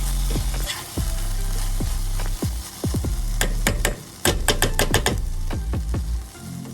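Okra with onions cooks in a pan with a steady, loud sizzle while a spoon scrapes and stirs in quick repeated strokes, the clatter rising toward the end.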